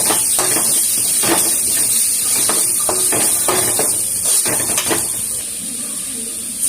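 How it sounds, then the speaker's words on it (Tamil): Garam masala, Kashmiri chilli powder and chilli flakes sautéing in a pan for masala bread, a steady close sizzle with a constant high hiss and repeated scraping stirs of a spoon against the pan. "இதெல்லாம் நல்லா வதக்கலாம்"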